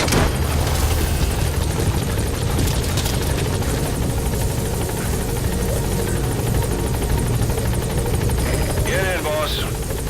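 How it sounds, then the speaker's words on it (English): A helicopter arrives at a landing zone in the video game Metal Gear Solid V, its loud steady rotor drone filling the whole stretch while brief voices sound faintly underneath. "helicopter has arrived."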